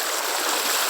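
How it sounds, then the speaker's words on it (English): A creek swollen before a storm rushes over rocks in a steady, close, broadband hiss of moving water, with no voices over it. "And the water's rushing pretty good."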